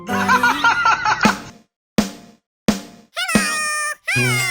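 A white and black cat meows repeatedly in close, loud, drawn-out calls broken by brief silences, with giggly, laugh-like sounds mixed in.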